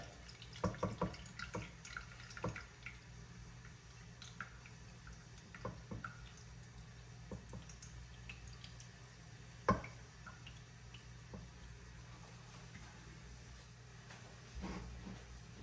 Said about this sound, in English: I'm just gonna go ahead and pour the excess juice into a pot